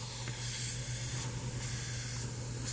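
Air suspension on a Range Rover / Land Rover LR3 hisses steadily as the air pressure bleeds down, a continuous broadband rush of escaping air with a low hum underneath.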